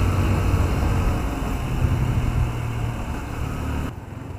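A Yamaha Byson motorcycle from 2013 ridden on the road in strong wind, with a steady loud rumble of engine and wind roar that drops away sharply near the end.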